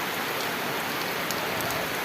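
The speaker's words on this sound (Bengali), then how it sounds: "দেন কি বলে বৃষ্টি নামছে" Steady, dense rain falling on a surface, an even wash of noise with no pauses.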